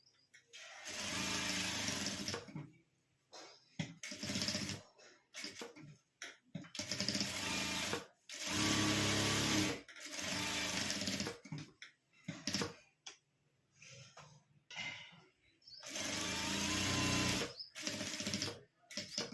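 A sewing machine stitches blouse fabric in repeated short runs, its quick whirring bursts starting and stopping with quiet gaps between them.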